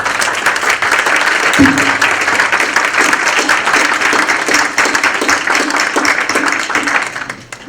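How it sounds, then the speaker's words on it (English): An audience at a university panel event gives loud, sustained applause to the panelists, close and dense clapping with one sharp knock early on, fading out at the end. "please give a huge applause to our panelists today"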